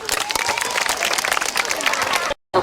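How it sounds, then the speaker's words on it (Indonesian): A crowd of junior high students claps and cheers together in a dense burst of applause, loud and close, then cuts off abruptly. "tepuk tangan dulu."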